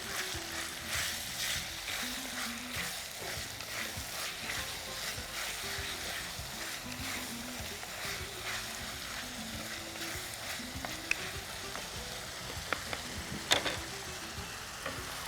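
Broken green chillies sizzle and fry in hot oil in a pan while being stirred, a steady crackling hiss with scraping stirring strokes and a few sharp clinks toward the end.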